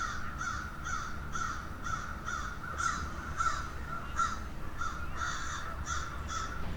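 Crows fighting outdoors give a long run of harsh, evenly spaced caws, about a dozen calls in a row at moderate distance over a faint background hum.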